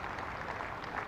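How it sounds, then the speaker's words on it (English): A county cricket crowd at Middlesex versus Glamorgan applauds the Middlesex bowling effort with steady, distant clapping that holds evenly through the brief moment. "A nice applause and ovation from the crowd for one last time this season for the bowling effort from Middlesex"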